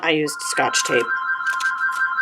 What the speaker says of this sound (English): Sorry about the phone in the background. It never stops.